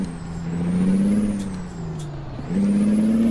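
A Kenworth T800 dump truck pulling a trailer moves off with a steady low diesel engine drone that rises and dips as it works, with a brief hiss of air partway through.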